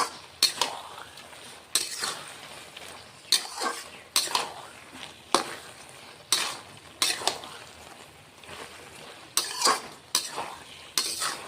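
Snakehead fish heads cooking with bottle gourd in a pot: a spoon scrapes and clanks against the metal in regular bursts about once a second, over a faint background sizzle, with no talking.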